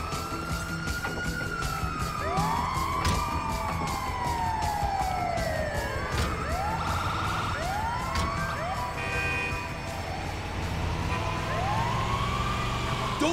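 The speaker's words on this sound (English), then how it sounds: "Oh, it's the ambulance!" An ambulance siren in GTA V wails, rising and falling repeatedly, loud and continuous, with traffic rumble and engine noise underneath.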